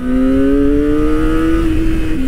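A Kawasaki Ninja ZX-25R SE, a 250cc four-cylinder motorcycle, revs high under hard acceleration, giving a loud, steady, smooth high-pitched wail whose pitch climbs slowly before dipping at the very end.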